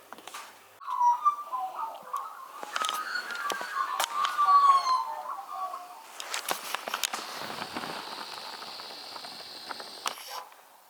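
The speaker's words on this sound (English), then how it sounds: "Bit of magpie bird song just then." A magpie carols in a warbling, gurgling run of notes outdoors, mixed with clicks and rustling handling noise, fading into a steadier background hum.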